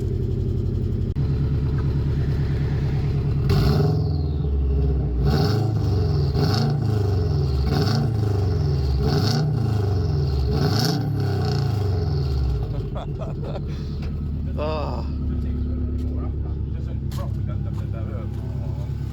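A cold Subaru Forester STB engine starts and settles into a rough idle, with repeated rhythmic revs and a turbocharged roar at close range before quieting. Voices talk over it.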